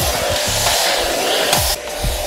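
Rowenta Compact Power Cyclonic bagless vacuum cleaner, 750 W, running at full suction: a steady, loud broadband roar with airflow hiss throughout, briefly shifting in pitch near the end, no voices.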